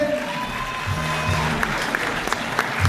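An audience at the 2019 Ambassadrices de France pageant event gives a moderate round of applause, with scattered claps that rise and thin out while murmurs and some talk continue underneath.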